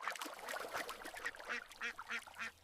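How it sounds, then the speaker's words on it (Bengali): Farm ducks quack in quick, repeated bursts, several loud calls close by in an uneven rhythm with a little background noise between them. "হাঁসরা খুব খুশি হয়েছে।"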